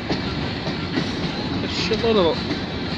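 A long CN freight train of steel gondola cars rolls past close by at Bayview Junction, a dense continuous rumble of wheels with a brief squeal, while a person speaks briefly.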